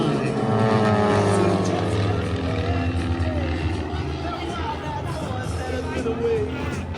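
Team Redline's two aerobatic planes, flown by Ken and Austin Reeder at the 2025 Greenwood Lake airshow, drone past in formation at a moderate distance, engine tone shifting as they pass, under an announcer and crowd babble.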